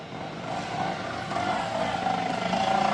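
A Yankee 500 twin-cylinder two-stroke motorcycle engine runs with a steady, droning, slightly rising hum, heard at moderate distance with no talking.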